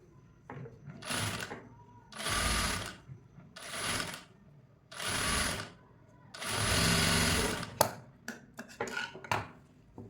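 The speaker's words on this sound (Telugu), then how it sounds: "మళ్ళీ ఇంకొక స్టిచ్ చేసుకుందాం." A sewing machine stitches a blouse in several rapid mechanical bursts separated by short pauses, close and clear, ending with a scatter of small clicks and taps.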